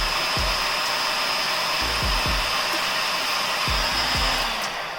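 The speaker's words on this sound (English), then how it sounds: "get your heat gun and make sure that the two are definitely in the middle" A heat gun blows steadily while heating a solder sleeve joining two wires during car loom wiring on a Mitsubishi Evo 5, a constant close airy roar with a few low thumps underneath.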